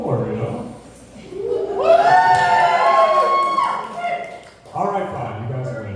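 A live concert audience in New York City cheers and shouts for more, a loud swell of whoops and yelling that rises, dips and comes back, mixed with voices.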